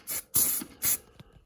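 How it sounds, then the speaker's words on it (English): An aerosol can sprays lacquer onto a decorated ceramic mug in three short, loud, hissing bursts, the middle one longest, each followed by a brief pause. "spray it with lacquer"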